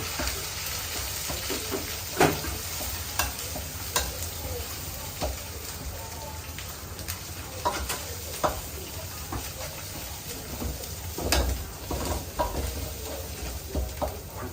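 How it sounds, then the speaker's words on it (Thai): Red curry paste is stir-fried in a pan for a fried fish dish, with a constant close sizzle and frying hiss. A utensil scrapes and taps against the pan at irregular intervals throughout. "ผัดไปพริกแกง"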